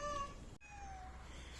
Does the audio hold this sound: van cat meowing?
yes